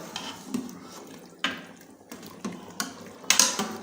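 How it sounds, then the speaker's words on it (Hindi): Beef paya sizzles as it is fried in a pot while a utensil scrapes and stirs, with repeated clanks and scraping strokes close by. "अभी इसकी भुनाई शुरू कर देंगे। अच्छे तरीके से भूनेंगे पाए।"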